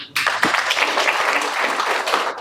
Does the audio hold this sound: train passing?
no